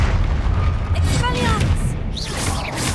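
Confringo blasting spells erupt in a Hogwarts Legacy duel, booming bursts with crackling, swooping magical effects over a dense, continuous low rumble.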